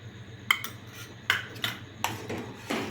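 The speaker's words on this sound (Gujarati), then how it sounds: "મલાઈ દૂધમાં મિક્સ થઈ જાય ત્યાં સુધી હલાવતા રહીશું" Spoon stirring malai cream into milk in a pan for mava kulfi, several light metallic clinks and scrapes at an uneven rhythm over a low hum, fairly quiet.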